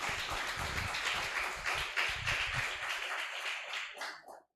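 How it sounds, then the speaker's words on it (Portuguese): A church congregation at a Sunday evening service applauds in a steady, fairly soft wash of clapping that holds for about four seconds before cutting off. "Se você quiser, você pode aplaudir ao Senhor"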